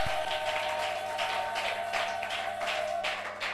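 A church congregation applauds together at a worship service, a dense, sustained wash of clapping over a steady sustained tone.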